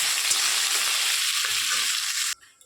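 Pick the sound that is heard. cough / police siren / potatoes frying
potatoes frying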